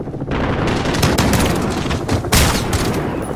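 Olympia 725 shotgun blasts in the Call of Duty: Modern Warfare campaign, loud and close, merging into a dense, roaring barrage of gunfire with a heavier boom near the end.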